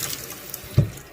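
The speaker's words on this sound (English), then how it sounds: "I like to run cold water on it" Cold water running from a tap over a hose fitting during a reef tank manifold build, heard as a low, steady trickle with a brief louder splash near the end.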